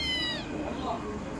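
A Siamese cat gives a single short meow at the start, close and clear, with someone talking alongside it.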